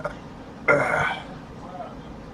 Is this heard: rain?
no